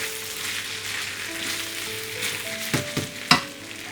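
Chicken pathia ingredients sizzle in ghee with a steady, close hiss, and toward the end three quick sharp knocks and splatters stand out above the frying.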